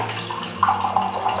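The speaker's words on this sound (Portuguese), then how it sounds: "Vou colocar água aqui no copo." Water pouring into a drinking glass during a home lunch, a steady close splashing stream with brighter gurgles as the glass fills, heard alone over a low background hum.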